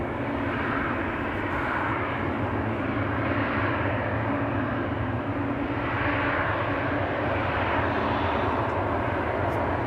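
A jet airliner at Amsterdam Schiphol Airport gives a steady, loud engine roar that holds broadband for the whole stretch, with a slight swell partway through, and no one speaks over it.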